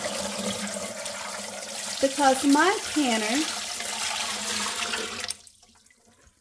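Tap water pours steadily into a pressure canner being filled for home canning, a continuous rushing wash under a person talking, stopping abruptly near the end.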